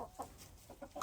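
Backyard chickens cluck in short, soft bursts at close range, several quick calls spread across a second with a louder call at the end.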